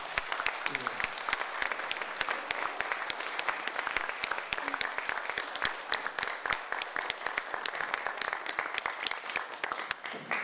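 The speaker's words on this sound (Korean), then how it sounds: "여러분들 큰 박수 다시 한번 좀" A crowd applauds steadily for about ten seconds at a mayoral candidate debate, dense clapping from many hands filling the room at an even, lively level.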